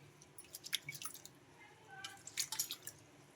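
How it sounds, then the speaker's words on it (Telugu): Barley, rice and fenugreek seeds are washed in water, giving faint, close drips, soft squishes and light sloshing in scattered bursts. "ఇంకా ఇప్పుడు వీటిని 2 సార్లు శుభ్రంగా వాష్ చేసుకోవాలి."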